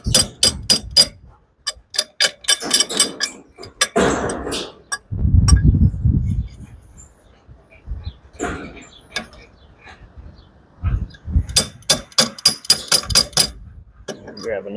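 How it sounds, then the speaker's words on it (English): An adjustable hammer strikes during farm repairs, landing sharp blows in quick bursts separated by pauses, with low rumbling handling noise and a voice in between. "My adjustable hammer."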